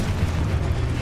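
A Confringo spell explosion in the Hogwarts Legacy video game, a dense, loud rumbling blast filling the whole short moment with heavy low boom.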